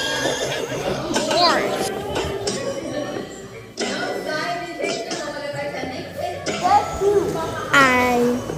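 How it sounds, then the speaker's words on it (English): A horse neighs among lively, busy sound in a children's alphabet animal song, with a voice and chatter alongside; several whinny-like calls rise clearly above the mix. "Horse."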